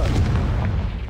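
A single loud fiery blast from the Confringo spell in Hogwarts Legacy, a deep booming burst that fades within a second.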